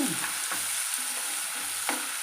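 Potato and tomato sizzle and fry in a pan for wheat rava upma, a loud, steady close sizzle broken by a few soft scrapes of stirring.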